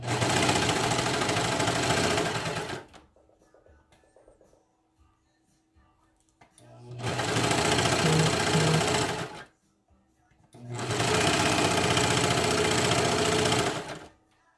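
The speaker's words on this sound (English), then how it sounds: "I'm just going to make sure I'm sewing all of mine from the ankle up" A sewing machine stitches a pair of leggings from the ankle upward, running in three loud, steady bursts of a few seconds each, separated by quiet pauses with faint handling noise.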